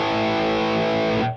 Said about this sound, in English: I like the spring reverb.